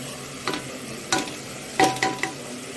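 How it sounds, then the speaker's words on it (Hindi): Ginger and garlic fry quietly in a pan for a goat meat dish, with a soft sizzle under several scraping strokes of a spoon stirring the mixture. "तो अच्छे से मैं भूनूंगी अदरक लहसुन के साथ।"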